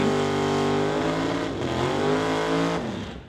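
A 1983 Pontiac Firebird door car at a drag race roars close and loud, its engine pitch rising through gear changes before fading at the end.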